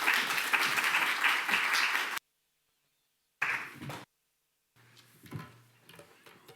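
Conference audience applause, a burst of dense clapping lasting about two seconds that cuts off abruptly, followed by a shorter second burst and then quiet room sounds.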